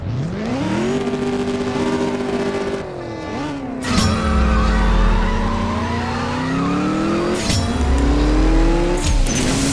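Game Mustang race car in CSR Racing 2 revs hard through gear changes, engine pitch climbing and dropping in sweeps with sharp shift breaks, loud and close, with tire squeal.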